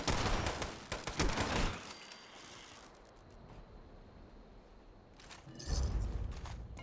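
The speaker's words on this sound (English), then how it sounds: "This thing soaks up damage from my weapon, and I go through several stim packs, but eventually CB and I take it down." Gunfire in the video game Fallout 76 while fighting a legendary communist trooper, with a loud rapid burst of shots at the start, a quieter lull, then another burst near the end.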